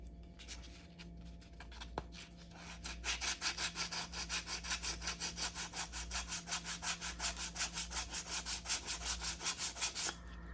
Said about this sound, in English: I'm only sanding.